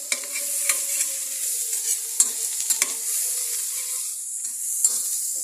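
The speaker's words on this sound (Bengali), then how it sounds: "আমাদের শুটকিটা ভুনতে থাকবে" Dried fish (shutki) frying in a pan while being stirred, a soft continuous sizzle with scattered scraping clicks of the spoon against the pan, close and fairly loud, no voices.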